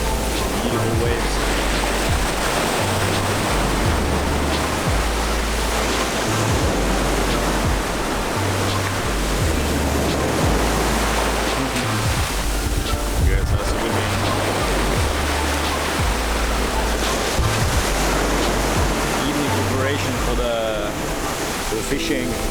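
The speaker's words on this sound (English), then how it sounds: "Beautiful waves." Ocean waves at Dahican beach on a cloudy day, a loud continuous wash of surf rolling in close by, with steady low rumbling underneath.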